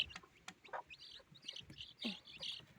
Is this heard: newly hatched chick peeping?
yes